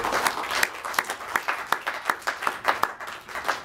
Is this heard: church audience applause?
yes